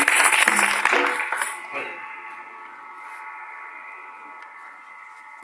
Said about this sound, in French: Acclamons très fort pour ma maman